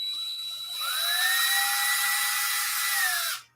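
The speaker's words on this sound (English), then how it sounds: "you just take and drill one hole in the center" A steady high-pitched motorized whine from a power auger drilling a hole in the ground starts up after a moment and runs continuously, close and loud, then cuts off abruptly.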